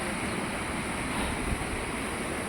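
Waterfall rushing beneath a frozen mountain glacier on a high Himalayan pilgrimage trail, a steady broadband roar of falling water with wind, continuous and fairly loud with no talking.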